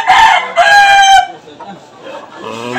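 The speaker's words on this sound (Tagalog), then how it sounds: "Ayan malaki yung manok." A big rooster crows loudly and close by in one long, strained call, followed by quieter clucking and faint voices in the background.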